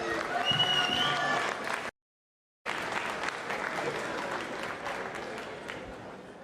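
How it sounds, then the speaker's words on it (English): Crowd applause with scattered cheering fills the space, cutting out abruptly for a moment before resuming at a steady, moderate level. "Round of applause for these two."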